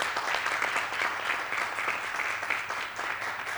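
A studio audience at a French holiday television show applauds steadily, a dense, even wash of clapping close by with no voices over it.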